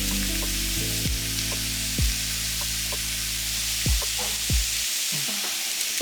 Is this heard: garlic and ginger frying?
yes